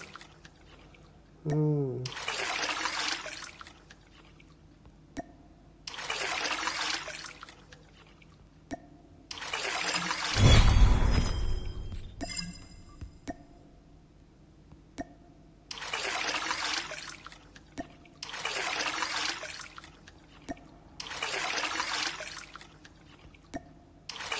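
Water being pumped in a game event, repeated bursts of rushing, hissing flow separated by short quiet gaps, with a louder watery surge in the middle.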